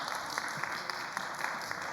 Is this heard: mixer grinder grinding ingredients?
no